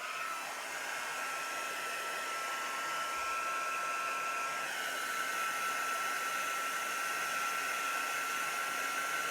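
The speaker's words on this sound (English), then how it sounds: "I think I might dry it with a heat gun actually" Heat gun blowing a steady, close airstream to dry ink on craft card, a continuous broadband whoosh with a faint whine that holds level throughout.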